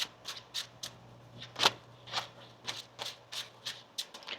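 Tarot cards are shuffled by hand in a steady series of quick riffling bursts, about a dozen short papery flutters at close range with a soft hum underneath.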